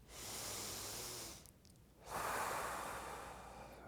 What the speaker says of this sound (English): I usually like to take a few deep breaths, just like this.